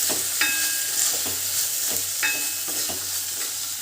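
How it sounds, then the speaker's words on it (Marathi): Field beans (pavta) fry in hot oil, a loud, close, continuous sizzle broken by periodic stirring scrapes and light clinks of a spoon against the pan. "मी हा पावटा टाकते व्यवस्थित तेलामध्ये छान असं भाजून घ्यायचं आहे आपल्याला आता हे फ्राय करून घ्यायचं आहे"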